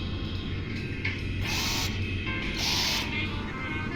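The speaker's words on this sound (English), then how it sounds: "Oh, wait. That's just a bolt driver." Bolt driver tool in a VR video game whirring in two short bursts, each about half a second long, over a steady low machine hum.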